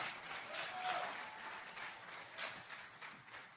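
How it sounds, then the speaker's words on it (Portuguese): A church congregation applauds during a sermon, a soft, diffuse wash of many hands clapping at a distance, sustained and fairly even with slight swells, no talk on top. "Aplaude aí,"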